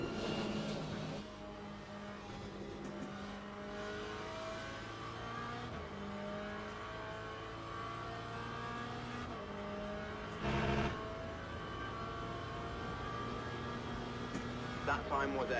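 Race cars circle Monza in the Le Mans Ultimate racing game, including a Porsche, their engines droning with shifting pitches and rising revs through gear changes, steady at moderate volume with a brief louder burst midway and faint talk underneath.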